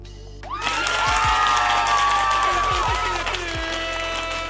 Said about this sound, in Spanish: los aplausos de entrada,